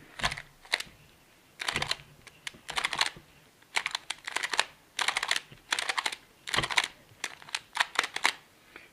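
A Moyu Weilong GTS V2 speed cube is turned in quick bursts, producing loud, sharp clusters of clicks close up, separated by short pauses, with no talking.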